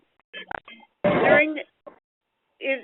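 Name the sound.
telephone keypad dialing tones on a conference call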